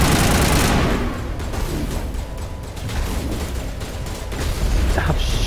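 Dense, sustained automatic gunfire in the Mass Effect video game, loud and continuous with heavy low-end rumble and battle noise throughout, no voices.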